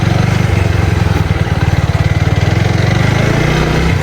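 A motorcycle engine revs hard in first gear, a loud close throbbing drone with a fast steady pulse that holds level across the whole stretch, with no talk over it.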